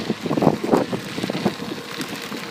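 Wind buffets the microphone on a cyclist riding downhill on the Mountain Bay Trail west of Eland, Wisconsin, in loud, uneven rumbling gusts with a rushing hiss and no talking.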